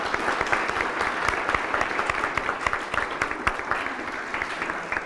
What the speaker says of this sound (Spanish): a quien pido por favor un fuerte aplauso para ustedes